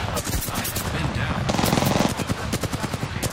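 Rapid automatic gunfire in the Apex Legends video game, a dense, loud burst of shots that runs through the whole stretch with a faster chattering rattle near the end.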